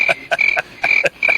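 A soundboard cricket-chirping effect on a podcast: regular, evenly spaced trilling chirps in quick pulses, fairly loud and heard alone without talk.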